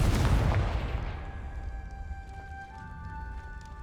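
A spell blast in Hogwarts Legacy erupts as a loud, booming explosion that rumbles and decays over several seconds, leaving a thin lingering magical tone behind.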